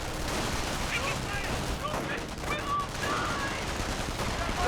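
Rapid gunfire crackles through a Company of Heroes battle, a steady dense barrage of shots with a few sharper cracks standing out, loud and continuous with no pauses.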